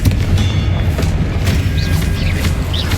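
A Confringo fire spell blasts in Hogwarts Legacy, a loud booming explosion with heavy low rumble and crackling debris, sustained over the whole stretch with no voices.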